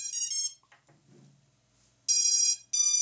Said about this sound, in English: And we hear motor beeps.